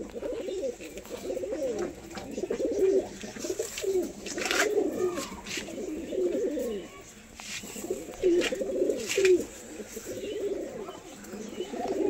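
A male and female pigeon kept at home cooing repeatedly in low, throaty rolling phrases, close and moderately loud, with brief pauses between bouts.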